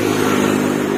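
An idling bus engine sounds as a loud, close, steady low drone with a constant rough rumble.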